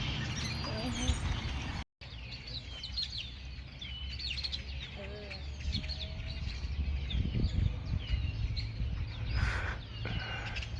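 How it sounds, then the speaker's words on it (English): Many birds chirping and calling at once in the city park and free zoo in Roswell, New Mexico, a dense, continuous layer of overlapping tweets and short whistles, moderately close, with a brief dropout near the start. "So many birds."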